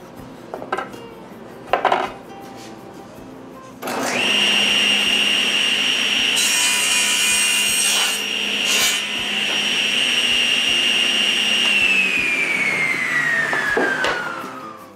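A piece of wood is cut with a power saw in a workshop, a steady loud whine running for about eight seconds and then winding down, after a few brief knocks of handling at the start.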